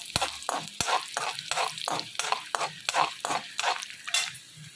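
Mustard seeds, cumin, dried chili and urad dal temper in hot oil, giving a crackling sizzle broken by rhythmic spoon stirs and clinks against the pan, close and continuous.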